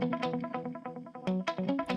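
Electric guitar picked in rapid, uncompressed notes with uneven attacks and a slight echo, played alone at close range.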